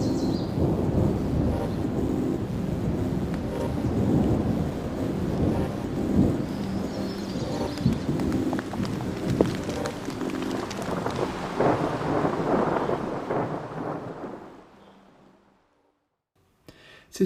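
A distant thunderstorm rumbles low and steadily with rain, swelling at intervals for about fourteen seconds before fading abruptly into near silence.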